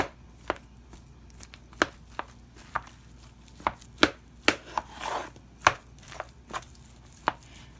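Soft boiled potatoes are broken up for a Southern potato salad with about a dozen sharp, irregular chopping knocks against a bowl or board, close and clear with no talking.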